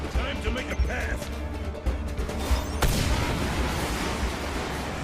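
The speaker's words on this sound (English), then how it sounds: "apparently it was in the path of the explosion." A loud explosion bursts out of video game action, a sharp blast partway through followed by rumbling debris, amid ongoing combat noise with voices talking over it.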